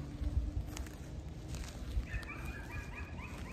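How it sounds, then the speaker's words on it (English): Neighbors' dogs barking and yelping at a distance outdoors, a steady scatter of short barks over low rumbling background noise with no talking. "I don't know when these neighbors got these yelping freaking dogs"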